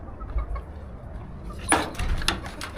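Village hens on a farm cluck in short, scattered bursts close by, louder in the second half over a low rustling background.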